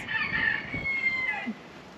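Chickens cluck and a rooster crows nearby in Belize, a busy flock calling over faint outdoor background noise.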